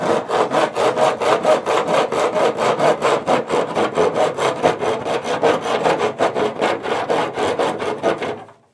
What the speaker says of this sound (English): Now you're not even looking at what you're sawing.